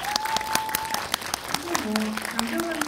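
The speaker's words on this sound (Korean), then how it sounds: "박수 부탁드립니다" An audience at a film Q&A with the director and lead actor in a Lotte Cinema World Tower auditorium claps steadily throughout. Voices talk over the applause.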